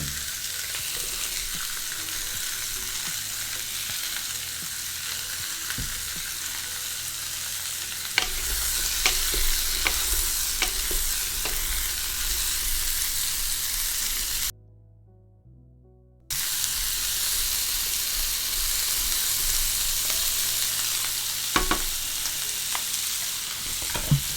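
Black pepper pork with red capsicum stir-fries in a pan, a loud steady sizzle with scraping stirs throughout, broken by a brief silent gap partway through.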